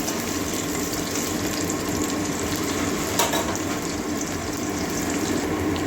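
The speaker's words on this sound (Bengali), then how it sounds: "পেঁয়াজটা ভেজে নেবো কালো জিরেও একটু দিয়ে দিচ্ছি" Onions frying with nigella seeds in a pan, a steady, close, even sizzle that carries on throughout without pause and with no voices.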